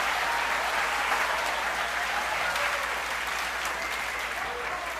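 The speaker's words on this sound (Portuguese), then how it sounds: "Se você está aplaudindo o Nazareno, faça isto com entusiasmo." Church audience applauding at a Portuguese-language sermon, a dense, steady burst of clapping that fills the whole stretch, with faint voices underneath.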